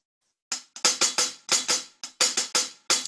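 A drum groove reduced to a pattern of sharp, identical clicks, about a dozen dry onsets in an uneven syncopated rhythm, loud and isolated with silence between hits.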